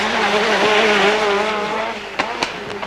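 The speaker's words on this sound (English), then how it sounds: "Looks to be going a wee bit gingerly for Kankkunen around this set of the circuit at least" A Ford Sierra Cosworth rally car on a circuit at the 1988 Race of Champions, its engine roaring loud and close with shifting revs. Sharp tire squeals and skids near the end.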